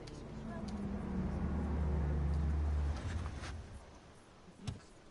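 A car in the Batman Telltale Series video game, a low engine rumble swelling and then fading as it passes, heard under faint background noise and voices.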